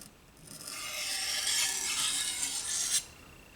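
A knife blade is drawn along a simple sharpening stone, giving one steady, close gritty rasp that builds, holds for about two seconds and stops sharply.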